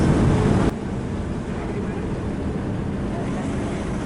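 A passenger ferry ship docks at port, with a steady low engine and hull rumble and wind noise, and louder deck noise in the first half-second.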